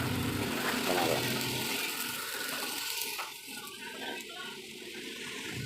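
Water pours and splashes into a pot of tinola chicken soup, a steady broad rush that fades partway through into a quieter trickle, heard alone without talk.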